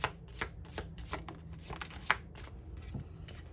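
Tea leaf oracle cards being shuffled by hand, a series of quick, soft riffling and slapping bursts repeating every half second or so, close and fairly quiet with no talking.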